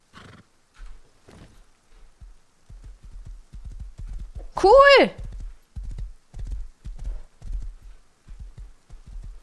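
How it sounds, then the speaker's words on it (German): Horse in the survival video game Rust, a steady run of hoof clip-clops with one loud whinny midway, a player's voice briefly heard over it. "Ich habe ein Pferd gefunden!"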